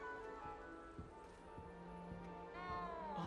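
A cat meows faintly in the Hogwarts Legacy video game, a drawn-out plaintive call over a soft background of game ambience and quiet music.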